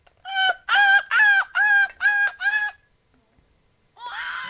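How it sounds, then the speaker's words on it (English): A seagull calling close by: six loud, rhythmic squawking cries in quick succession, then a pause and the start of another call. "There's a seagull here."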